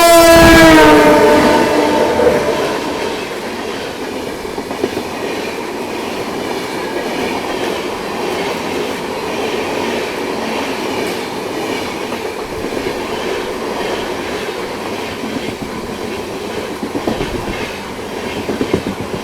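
The Karnataka Sampark Kranti express train via Bellary passes close by, opening with a loud horn blast that gives way to a sustained rumble and clattering wheels.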